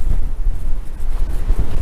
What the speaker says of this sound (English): Wind just a blowing, boy.